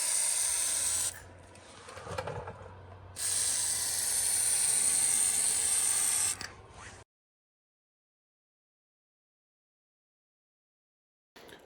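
WD-40 aerosol sprayed onto a greasy motorcycle swing arm during a KTM supermoto build, two sustained hissing bursts of about two and three seconds each with a brief pause between, then silence.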